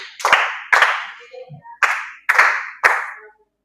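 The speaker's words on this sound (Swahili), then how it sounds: "Tumpigie makofi" Children clapping their hands in a church classroom to cheer a correct answer: five sharp, loud bursts of applause, each a short flurry of claps, with brief quiet gaps between them.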